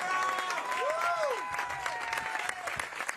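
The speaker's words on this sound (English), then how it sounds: "Could you give a huge round of applause for really one of my favorite Republicans in America" Crowd at a Republican political event applauding and cheering, thick continuous clapping with whoops and voices rising over it, loud and sustained throughout.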